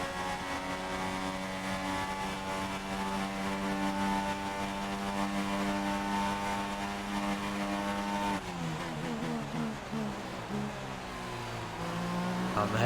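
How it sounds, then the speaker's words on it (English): A Formula 1 car engine in the F1 2016 racing game holds a steady high-pitched whine at sustained revs, then drops and fluctuates as the car brakes and shifts down before climbing again. "We've got a bit of a gap on Hamilton, just going to pull out to the side so he doesn't get my slipstream."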